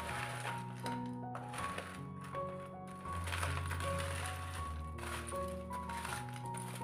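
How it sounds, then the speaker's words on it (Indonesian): Homemade block ice, broken up by pounding, crunches and clatters as it is added to a fruit ice drink, with background music running steadily underneath. "Kemudian di sini aku tambahkan es batu."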